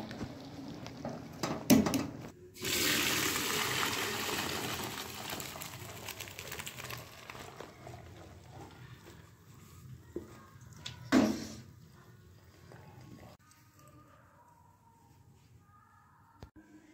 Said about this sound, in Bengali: এখন আমি এটাকে নামিয়ে জল ঝরিয়ে নেব।